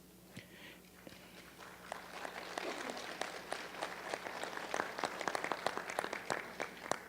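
Audience applause in a hall at a participatory democracy forum, beginning sparse and swelling into sustained, dense clapping that grows louder toward the end.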